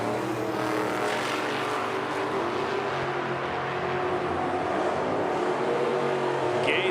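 A little Fox body car and a roadster run side by side down a drag strip at the Oil City Classic in Edmonton, a steady loud engine roar filling the whole stretch with no talk.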